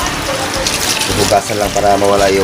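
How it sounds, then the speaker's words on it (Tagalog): Water gushes steadily into a cooking pot, a loud continuous splashing pour while a person talks over it. "Lagyan natin ng tubig guys."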